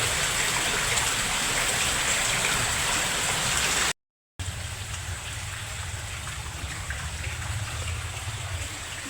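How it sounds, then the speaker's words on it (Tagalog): Heavy rain pours steadily beneath a bridge at Napilihan, Vinzons, Camarines Norte, a dense, loud hiss with a deep low rumble throughout, broken by one brief silent gap near the middle. "Ang grabe ang ulan, eh."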